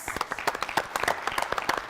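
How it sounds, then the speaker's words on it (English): A short burst of audience applause for competing teams at a brain-quiz event, crisp individual claps close by in a quick uneven patter. "Let's give them a round of applause."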